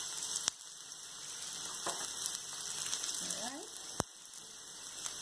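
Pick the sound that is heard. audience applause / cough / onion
onion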